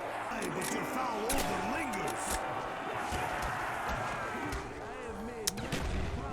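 Bolt-action Kar98 rifle shots ring out in Black Ops 1 Zombies, scattered single reports over a busy game soundscape of zombie groans and effects, with a voice talking quietly underneath.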